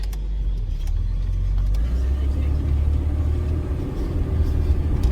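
A 1973 Jaguar Series 2 short wheelbase car driving on the road, heard from inside the cabin as a steady, loud low rumble of engine and road noise with no break.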